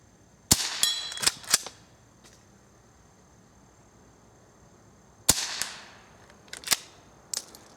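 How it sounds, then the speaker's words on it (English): Shots from a Remington Model 12 rifle fired at squirrel targets crack sharply and loud, a few close reports spaced out with short ringing tails and quiet gaps between, no talk. "So I'm going to finish the last few shots"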